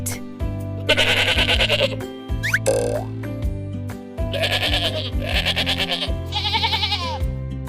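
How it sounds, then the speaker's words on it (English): A goat bleats in a handful of loud, close, wavering calls spaced across a few seconds, with a light music track underneath and no talking. "Goat."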